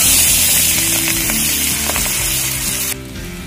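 Loud, close sizzling of onions frying in hot oil, with a few stirring clicks, then the sound drops sharply in the last moments.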